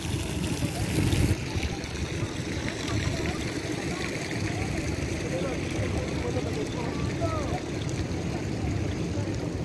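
Water from an artesian well runs from a beach shower on a rainy day at Boa Viagem beach in Recife, a steady splashing wash heard up close under ambient noise and distant voices.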